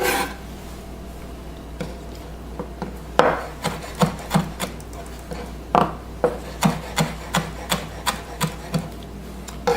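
A sharp knife slices a cucumber into rings on a cutting board, close, crisp chops falling in a steady, evenly spaced rhythm after a few scattered cuts.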